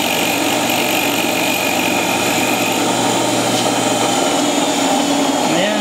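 CNC machine cutting flywheel spokes, a loud continuous high-pitched whine and buzz of spindle and cutter, steady throughout with no pauses.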